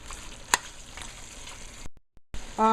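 Duck meat frying in a pot for curry gives a steady close sizzle with brief clinks, cut by a short near-silent gap, then louder bubbling sputter at the end.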